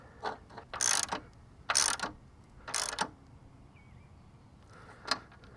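A ratchet turns a 13mm battery clamp bolt on a 2011 Cadillac SRX. Three loud, close bursts of rapid clicking come at roughly one-second intervals, followed by fainter clicks, with no talking.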